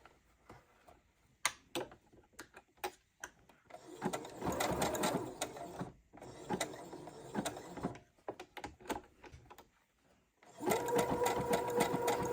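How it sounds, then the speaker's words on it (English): Sewing machine stitching the ends of crochet trousers, fast rattling bursts of stitching broken by short pauses and quiet mechanical clicks, close and clear. "put the foot down over them, and they get sewn into place"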